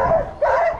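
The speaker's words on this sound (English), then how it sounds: "He did not like the dogs barking" A sled dog on a Colorado dogsledding team gives two quick, close barks, short and sharp, with no talking.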